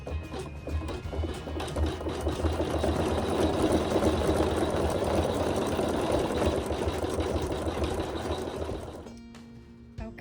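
A sewing machine stitches a quilt appliqué block in a long steady run of rapid mechanical whirring, close and loud, then stops abruptly near the end.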